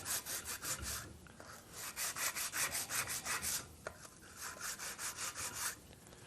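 Quiet, rhythmic back-and-forth scraping of sanding cloth rubbing against a metal engine block, steady strokes repeating several times per second, close up with no talking.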